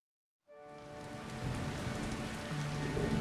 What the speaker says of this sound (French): La pluie était tombée des jours et des jours, des nuits, sur tout le pays.